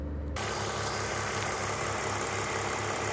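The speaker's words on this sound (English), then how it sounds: "Warm engine sound after 2 minutes, revving at 3000 RPM." A warmed-up BMW E46 with the M54B22 inline-six is held at 3000 RPM, a steady close-up drone with a regular pulsing rhythm and a faint ticking that starts abruptly and runs without letup.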